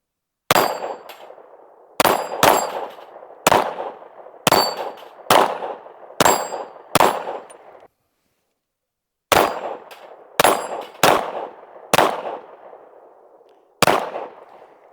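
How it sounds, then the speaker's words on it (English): Shots ring off a steel plate rack at an outdoor range, sharp metallic clangs in uneven bursts, some doubled, each ringing out briefly, with a short pause in the middle. "was trying to shoot the plate rack and couldn't understand why I was missing it so much"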